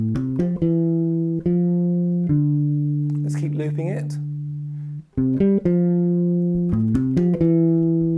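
A looping bass line of steady sustained notes shifting pitch every couple of beats, with a voice speaking briefly over it midway.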